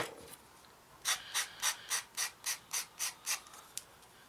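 A sanding sponge rubs a plastic part of a 1/32 Messerschmitt Bf 109E-3 model in about ten quick, evenly spaced back-and-forth strokes, soft, close and raspy, with no talk.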